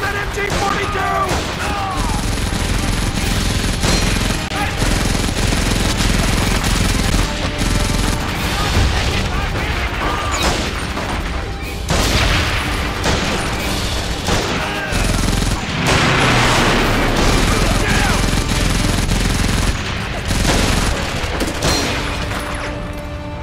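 MG-42 machine gun fire in the Medal of Honor Vanguard video game, dense continuous loud gunfire and battle noise with shouted voices mixed in throughout.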